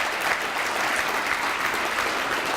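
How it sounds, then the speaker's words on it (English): A dinner audience at a keynote address applauds, dense steady clapping from many hands filling the room without pause. "yes, we're clapping"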